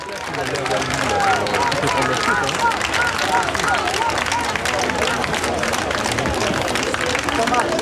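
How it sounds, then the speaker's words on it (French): A crowd gathered on the steps of a courthouse claps and cheers loudly and steadily, with a dense patter of applause, shouting and babbling voices that carries on throughout. "Sur le perron du palais de justice, la foule applaudit son défenseur"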